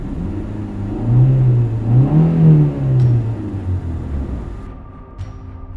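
A car engine revving and pulling away as a sound effect in an animated horror story, a low rising and falling rumble that swells, then fades as the vehicle departs.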